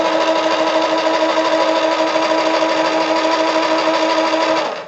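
A boiler with its pump running gives a steady, loud mechanical hum with a buzzing tonal drone, holding constant before cutting off abruptly at the end.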